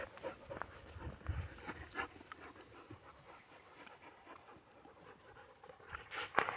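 A dog named Wizard pants rapidly nearby, with shuffling movement, faint claw and body noises, and an occasional soft whimper over a quiet indoor room.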